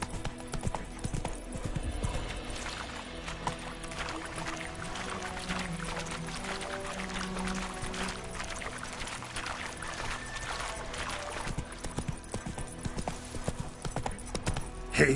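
Horse hooves clip-clop in a steady trot in the game The Witcher 3: Wild Hunt, with soft creaks and faint ambience beneath the rhythmic beats and no talk over them.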